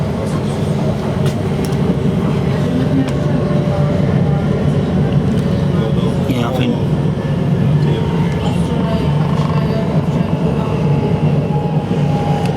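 Elizabeth Line Class 345 train running between Southall and Hanwell, heard from inside as a loud continuous rumble and rail roar with faint clicks, while people talk briefly over it.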